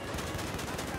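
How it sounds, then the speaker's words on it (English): Gunfire from behind during Battlefield 4 multiplayer on PS4, a dense, continuous burst of rapid shots that fills the whole second at steady loudness. "You're getting shot from behind."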